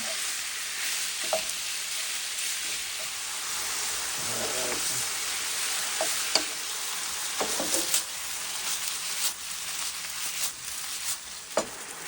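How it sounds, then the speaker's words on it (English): Garlic butter steak bites sizzling in an overcrowded pan, a continuous dense hiss with occasional sharp scrapes and clicks as they are stirred, fairly close and without speech. "I'm gonna keep stirring this up. My pan's a little overcrowded, but that's okay."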